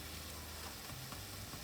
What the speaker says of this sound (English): And trust me, it will fry.